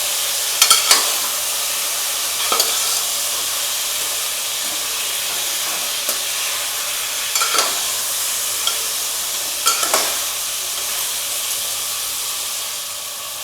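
Crab curry with turmeric simmers and sizzles in a pan under a steady hiss, with a few soft clinks and scrapes from stirring, and no one speaking.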